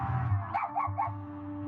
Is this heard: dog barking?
yes